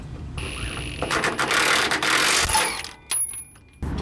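Metallic ratcheting and clicking as a wrench tightens a bolt on a 5-inch exhaust under a big rig, close and fairly loud in irregular bursts with short pauses.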